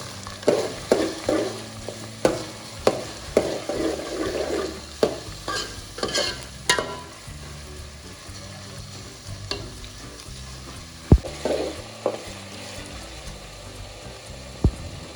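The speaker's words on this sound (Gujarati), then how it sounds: "થોડી વાર માટે હવે આપણે આને પાકવા દેશું" Eggplant bharta cooks in a pan, Kathiyawadi style, with a steady close sizzle and frying hiss, punctuated by sharp spoon scrapes and stirring knocks, with no voices.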